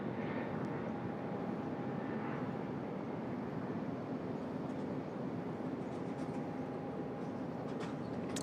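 Airliner passing at Sydney Airport, a continuous distant jet rumble with a faint steady whine, fairly quiet and unbroken, no voices.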